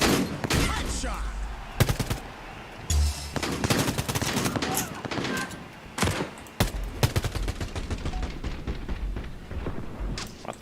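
Rapid volleys of sharp, loud gunfire in the shooter Quantum League, with repeated close bursts and single shots spread through the stretch and occasional voices between them.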